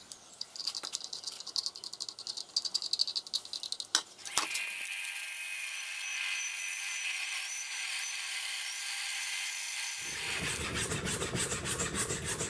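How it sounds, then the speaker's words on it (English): Scratchy rubbing strokes of hand-sanding a wooden part for a Pantorouter XL dust collection fitting, followed by a steady, even abrasive hiss that continues to the end. "After some more sanding"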